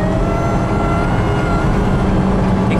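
A Nissan Grand Livina 1800cc with a six-speed gearbox accelerates hard in third gear at around 100 km/h, its engine droning loudly and steadily with heavy road and wind roar, close to the listener.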